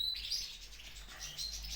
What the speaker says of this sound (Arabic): هذا هو حسون الطفرة الحمد لله يا رب